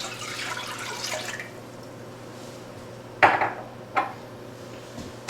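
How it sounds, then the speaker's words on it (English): Two cups of water pour into a 6-quart pot holding lemon juice for lemon jelly, a soft splashing hiss for about a second and a half, followed by a couple of close clanks of the pot. "Then we're going to add 2 cups of water."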